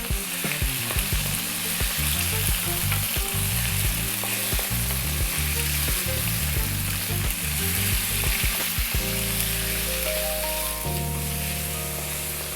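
Beef frying hard over high heat, a loud continuous sizzle with crackling spits and the scrape of steady stirring, alone with no talk.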